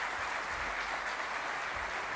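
An audience at a congress claps in a dense, sustained wash of applause, steady and fairly distant, with no speech over it.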